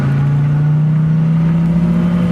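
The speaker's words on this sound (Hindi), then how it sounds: "जैसे ही वो गाड़ी चलाने लगती है" A car engine hums steadily and rises slightly in pitch as the car moves off, a loud, close droning tone without talk.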